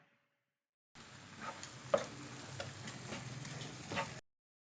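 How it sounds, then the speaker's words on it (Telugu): Masala spice powders and salt being stirred into a Telugu-style cauliflower kofta curry base in a pan, giving a faint, steady sizzle with a few soft scraping stirs and light clicks, no talking. "ఒకసారి అన్నీ బాగా మిక్స్ చేద్దాం."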